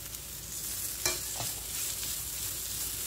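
Mashed potato, peas and spice masala stir-fried on full flame, a dense sizzle with a sharp spatula scrape near the middle and another faint one after, close and continuous with no voices.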